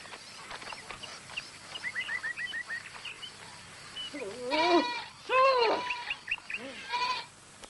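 Goat bleating in a rural farm setting, several wavering bleats rising and falling, the loudest calls clustered near the middle and more at the end, close by with faint bird calls and background noise.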